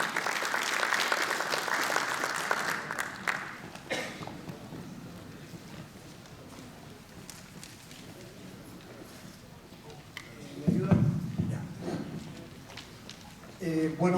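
Applause from a conference audience fills the opening few seconds, then fades, leaving a quieter room with shuffling and a brief burst of noise near the end.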